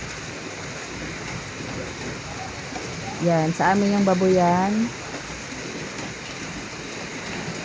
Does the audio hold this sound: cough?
no